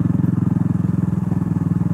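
A Kawasaki Meguro S1 (W230) motorcycle engine runs steadily while riding, with a close, even, pulsing thump throughout and no talk.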